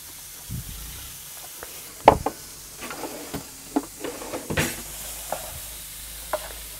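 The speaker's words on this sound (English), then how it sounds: "Let's first fry up our onions." Onions fry in a non-stick pan with a soft sizzle under scattered stirring scrapes and taps, fairly quiet and close.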